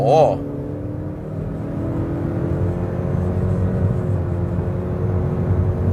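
Honda Civic FK engine pulling hard under heavy throttle, a steady, loud low drone that builds and holds throughout, with a brief voice at the start.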